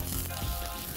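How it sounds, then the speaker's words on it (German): Food sizzles steadily in a frying pan as it roasts, with green asparagus being cooked; a continuous close hiss and crackle fills the whole second with no talk. "Das röstet nochmal schön ein bisschen an."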